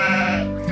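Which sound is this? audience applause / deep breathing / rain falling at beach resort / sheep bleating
sheep bleating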